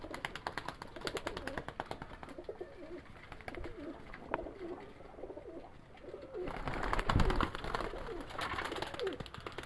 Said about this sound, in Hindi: ये वैशी कबूतर है जी माशाल्लाह से, वैशी कबूतर है